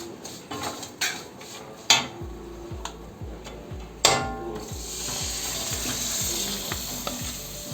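Rambutan pieces drop into chillies sautéing in an oil-filled pan for rambutan pickle, giving a steady close sizzle with a few sharp clatters and repeated spoon stirs and scrapes against the pan.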